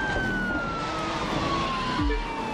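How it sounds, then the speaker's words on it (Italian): A police siren wails from a Carabinieri Jeep with about 800 horsepower in the racing game The Crew 2, its tone sliding slowly over a dense, loud engine and road roar. "facciamogli paura con la sirena."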